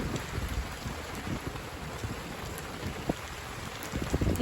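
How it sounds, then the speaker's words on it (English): Steady rain falls outdoors during an evening walk with a Newfoundland dog, a continuous soft patter of drops on the ground with scattered brief splashes, no talking. "You're standing in the rain?"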